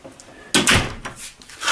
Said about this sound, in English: There's the doggie door.